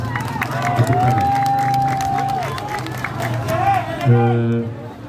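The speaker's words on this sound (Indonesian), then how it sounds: "Tepukan." A crowd at a protest at an election supervisory office breaks into applause and cheering, loud and close, while a voice keeps talking over the clapping and a brief burst of cheering ends it.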